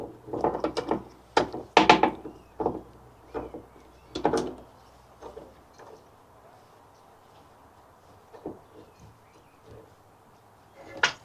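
Small parts being screwed into a leaking fuel pump on a Honda GL1200 motorcycle: scattered close clicks, ratcheting taps and metallic handling noises in irregular bursts, fading to quieter fiddling, with no talk.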